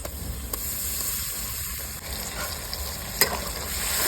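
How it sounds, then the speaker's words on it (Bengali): Ginger-garlic paste being sautéed with onions in a pan for a chicken and potato curry, giving a steady close sizzle with a couple of sharp scraping knocks of a spoon against the pan, and no talk. "ভালো করে কষে নেবো পেঁয়াজের সঙ্গে।"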